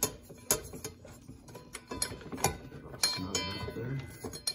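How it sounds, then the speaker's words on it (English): A wrench tightens the arbor nut on a Ryobi table saw blade, giving off quiet, close metallic clicks and clinks in an irregular ratcheting rhythm. "just gonna crank that to the right, apply some counter torque and tighten it up"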